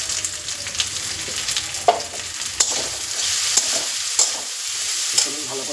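Spices for a bitter gourd, potato, brinjal and fish roe chorchori are stirred and sautéed in oil, a continuous close sizzle broken by regular sharp scrapes of a spatula against the pan, about once a second.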